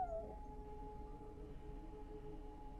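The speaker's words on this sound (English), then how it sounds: "they put the sound of, like, you know, whining dog" A whining dog sound in the video game Go Home Annie: a brief high whimper that slides downward at the start, then a faint steady tone and low hum.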